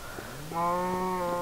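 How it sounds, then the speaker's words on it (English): A single cow moos in Minecraft, a drawn-out low bellow that starts midway and holds steady, fairly faint and alone with no talk. "Oh, look, a cow, and a chicken."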